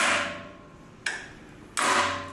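Two sharp metallic strikes a moment apart, hammering the flywheel off a 1961 David Bradley small engine, each with a short ringing decay, close by over a faint background hum.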